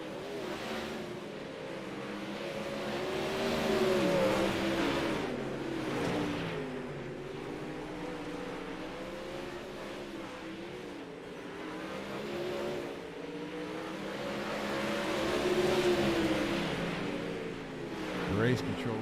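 360 sprint cars run laps at I55 Raceway, engines droning and swelling as the pack passes, rising and fading in waves from a moderate distance, steady roar with no clear speech.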